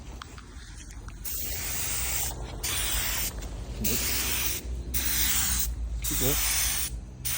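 A paint spray gun fed by a small air compressor at about 28 PSI through a 1.4 tip hisses loudly and close in long bursts broken by brief pauses, with a short spoken question partway through.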